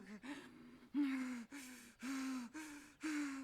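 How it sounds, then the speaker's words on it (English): Heavy breathing and moaning from a childbirth scene in House of the Dragon episode 6: about six strained, voiced gasps and groans come in regular bursts roughly every half second, close and intimate, with no talk. "who's moaning in my ears, bro?"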